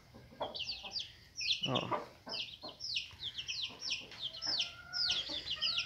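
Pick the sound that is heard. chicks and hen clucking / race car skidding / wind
chicks and hen clucking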